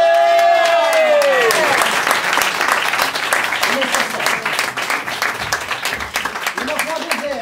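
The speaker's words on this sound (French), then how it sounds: "Allez, et on applaudit." Loud applause from an improv festival audience as a volunteer comes up, dense clapping that starts under a host's voice and then carries on alone, with crowd noise mixed in.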